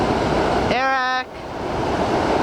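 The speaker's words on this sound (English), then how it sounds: "You can't hear me with that waterfall." A waterfall on a mountain river gives a constant loud, hissing roar throughout, and a brief shouted voice rises over it near the middle.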